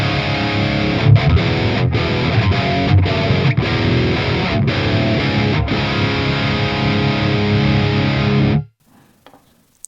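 Electric guitar played through a Donner Hush X Pro on the D1 preset with amp and cab only, giving a distorted tone with rhythmic chords and brief stops, then cutting off abruptly to near silence.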